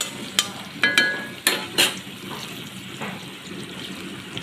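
Fish pieces frying in a pan, a soft continuous sizzle broken by several sharp clinks and scrapes of a utensil early on, close and without speech.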